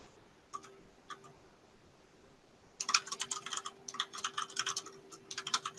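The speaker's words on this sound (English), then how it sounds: "just I'm typing." Keys clack on a computer keyboard at a desk, a few isolated taps at first and then a quick, steady burst of close typing.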